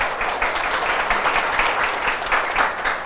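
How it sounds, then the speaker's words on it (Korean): An audience at a sales presentation on sanitary pads applauds, a steady rattle of many hands clapping at moderate level throughout, with faint talk underneath. "박수 한번 주시죠"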